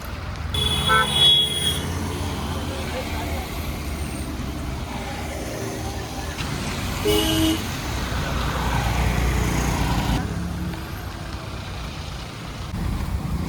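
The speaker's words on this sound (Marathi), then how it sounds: "इथे खूप किलोमीटरपर्यंत 2-4 किलोमीटरपर्यंत अशी ट्रॅफिकच जाम आहे. गाड्या एकदम हळूहळू चालल्या आहेत." Idling and slow-moving traffic jam on a Sunday on the road to Bhushi Dam, Lonavala, with several car horns honking, a couple of longer toots standing out over the engine rumble.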